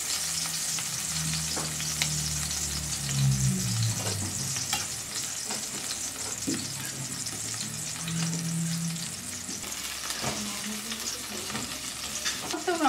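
Chopped onion sizzles and crackles steadily in a hot pan for zucchini noodles, a loud continuous hiss with occasional stirring scrapes, no talking.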